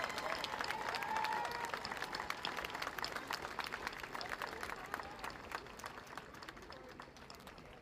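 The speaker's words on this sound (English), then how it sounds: "Can we have a round of applause for the people that are here to take care of us and our medics?" Protest crowd at a city hall rally applauding medics, dense sustained clapping from many people, moderately distant and gradually tapering off, with faint cheering mixed in.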